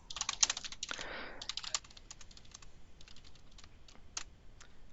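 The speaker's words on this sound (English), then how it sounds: "So effectively you just start typing any new posts." Rapid typing on a computer keyboard, dense clattering keystrokes at first that thin out into sparse, quieter taps, close and alone with no voices.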